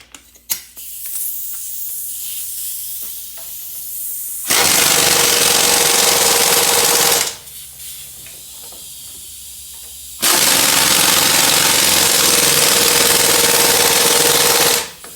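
Two long, loud bursts of an air impact tool tighten the strut bolts on a Grand Caravan with a 21 mm socket, separated by a quieter pause with faint shop noise.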